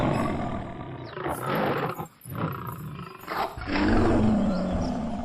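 A lion roars in a fierce animated fight with a tiger, giving loud, rough, sustained roars in several bursts with a brief break, and no talk over it.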